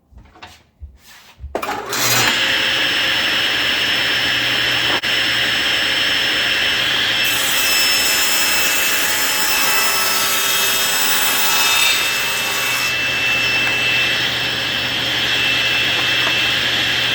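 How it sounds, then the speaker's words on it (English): A saw rips wooden planter box legs to width, starting after a few brief knocks and then running as a loud continuous whining roar with a steady cutting hiss that holds nearly unchanged to the end. "So I've now ripped all the legs"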